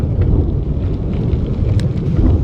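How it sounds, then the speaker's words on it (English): A low, continuous rumble of thunder fills the whole stretch, with wind-like noise and faint rain, loud and steady. "Just heard the unmistakable sound of thunder."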